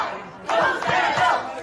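A wrestling event crowd erupts in cheering and yelling, a short loud burst of many voices after a quiet moment.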